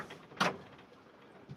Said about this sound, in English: I'm just going to open this door up.